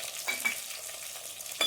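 Curry leaves, ginger and small shallots sautéing in a pan for Kerala-style fish curry, giving a soft, quiet sizzle broken by a few light stirring clicks.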